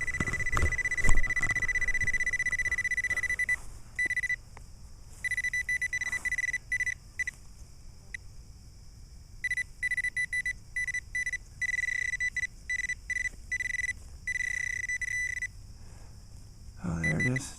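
A Makro CF77 metal detector sounding over buried foil, emitting steady high-pitched electronic tones that start and stop in repeated bursts, near and fairly loud, with soft outdoor noise and brief handling sounds between.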